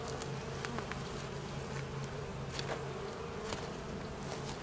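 A swarm of honeybees buzzes steadily during a hive installation on a small farm, a constant low drone with individual bees zipping close by now and then, fairly faint and with no talk.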